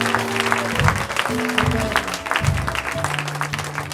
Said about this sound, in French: Acclamez fortement le Seigneur.